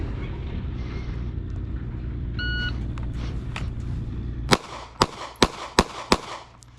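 A Glock 42 pistol fires a string of five sharp, loud shots in quick succession outdoors on a range, following steady road traffic noise as a vehicle drives past.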